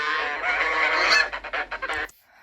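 Several geese honk loudly and raggedly for about a second, then a series of separate, punchy honks follow in quick succession before the sound cuts off abruptly.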